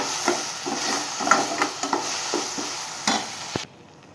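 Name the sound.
sautéing ginger garlic paste in a pan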